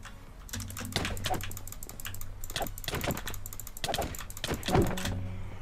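Computer keyboard keys clatter in quick irregular bursts during a game, close to the microphone at moderate loudness, with a few heavier key thumps and no talk.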